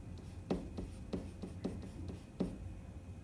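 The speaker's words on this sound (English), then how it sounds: "my first big idea that I'm going to write in the margin" Pen strokes scratch across paper as notes go into a margin, a series of short soft taps and scrapes in a quiet room.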